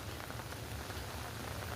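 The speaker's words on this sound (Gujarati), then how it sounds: "એક ધારો વરસાદ" Heavy rain pours without a break over Surat, a dense, steady roar of water on surfaces that holds at an even level throughout, with no voices.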